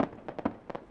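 Fireworks at the Blanes festival pop in a quick irregular series of about seven sharp bursts within a second, moderately loud and slightly distant.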